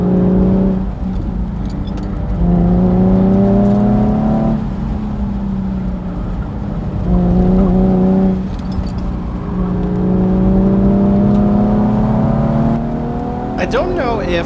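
A car on track at an HPDE day at ImportAlliance accelerates hard through a corner, its engine note climbing in repeated surges and shifts, loud and close with a faint voice underneath.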